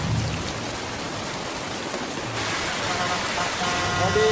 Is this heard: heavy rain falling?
yes